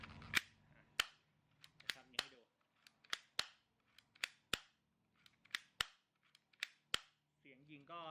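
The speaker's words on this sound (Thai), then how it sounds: "เสียงยิงก็แน่นอยู่นะเป็นปืนพลาสติกที่สปริงแข็ง" A C6 spring-powered plastic airsoft pistol with a stiff spring fires about a dozen sharp, snappy clicks at irregular intervals, close and crisp, with brief mutters between some shots.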